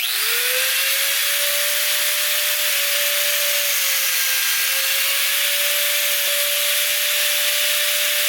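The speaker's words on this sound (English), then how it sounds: "I'm just going to use a cutoff wheel and slice this thing" A cutoff wheel whines at high speed while slicing through an oil line on an LS-swapped Nissan 350z, a loud continuous grinding hiss with a steady pitched tone and brief dips as it bites.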